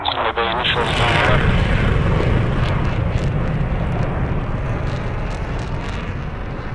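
An F/A-18C jet in the DCS flight simulator: a loud, continuous roaring engine drone that holds steady throughout, with radio voices talking over it.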